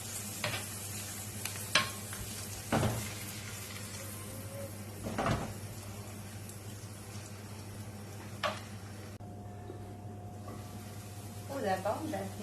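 Onions and peppers sautéing in a pan for a chicken gratin, a steady low sizzle with occasional spoon stirs and clatters, close and moderately loud, with no talking.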